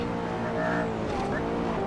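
A McLaren race car in a video game roars at high revs during a hot lap, the engine note shifting as it drops down through the gears into a corner, loud and close with a faint tire squeal.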